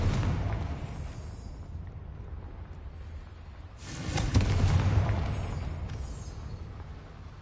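A Confringo blasting spell goes off in Hogwarts Legacy with a loud broadband boom and roaring rush near the four-second mark, rising out of a steady rumbling game ambience and then fading slowly.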